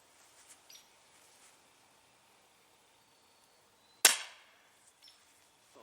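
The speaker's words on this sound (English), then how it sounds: "let's put about, say, 6 shots through this" A Daisy Winchester M11 air pistol fires one sharp, loud shot over a chronograph, standing out alone against a quiet background with a few faint handling clicks before and after.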